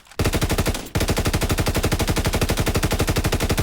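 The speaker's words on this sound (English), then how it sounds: "So first is the MG15, which is a 4-shot." Video game gunfire: an MG15 light machine gun in Call of Duty blazes in two long, rapid bursts, a short first one then a sustained stream of evenly spaced, loud, close shots.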